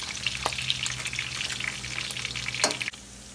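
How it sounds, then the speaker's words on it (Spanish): Trimmed suadero beef fat fries and browns in a pan with a dense, steady sizzle and crackle, with a couple of sharper pops and a brief stir sound near the end. "Se está dorando muy bien la grasita que le quité a la carne suadero."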